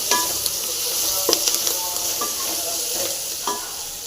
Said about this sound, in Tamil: வெங்காயம் ஃப்ரை ஆகிட்டு இருக்கு